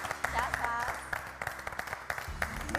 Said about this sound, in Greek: Τώρα χειροκροτάμε